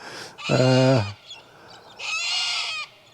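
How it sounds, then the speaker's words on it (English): Loud, close honking from geese at dawn, in two bursts, the first harsh and harmonic-rich, the second higher and brighter after a short lull with faint calls. "bloody pesky birds screaming their heads off, shouting at me"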